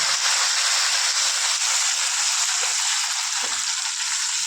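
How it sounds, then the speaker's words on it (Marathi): Curry leaves and chopped coriander sizzle in hot oil, a steady, loud, close frying hiss that runs throughout with a couple of faint pops and no talk. "आता त्यामध्ये कढीपत्ता टाकून घेऊया बघा कढीपत्ता टाकून घेतला"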